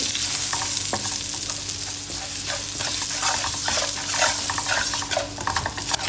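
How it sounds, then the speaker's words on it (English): Spices and chopped boiled potatoes are stirred in a pan on a low flame for dry masala aloo, with a continuous frying sizzle and repeated scraping strokes of a spoon against the pan, close and clear. "adding in all the spices, giving a nice mix to everything on low flame so that our spices don't get burnt out"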